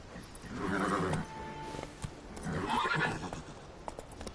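Roach, the horse in the video game Witcher 3, whinnies loudly twice over a steady run of galloping hoofbeats, the neighs rising clearly above the clip-clop.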